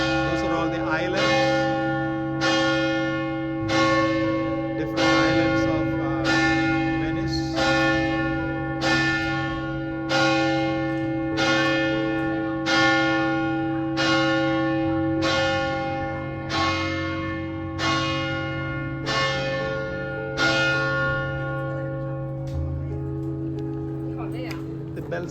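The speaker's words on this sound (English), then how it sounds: "View from the top once again from the bell tower, and you can hear the bells" Church bells ring from St. Mark's bell tower in Venice, heard up close at the top, with strong, evenly spaced strokes about every second and long ringing overtones while someone talks over them.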